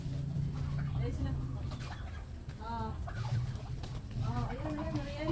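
Chickens cluck and chatter at a farm while being fed, a busy flock of soft clucks and short calls close by, with a person speaking over them.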